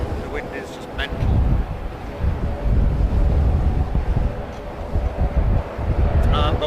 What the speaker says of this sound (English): The wind is just mental.